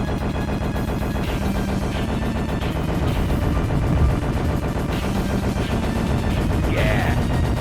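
Rapid gunfire and missile blasts from the Contra video game rattle continuously in dense, loud bursts, with occasional heavier impacts layered over a busy game soundtrack.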